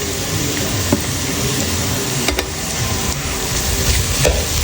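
Chopped large onions frying in a pan, a steady loud close sizzle with occasional stirring scrapes throughout.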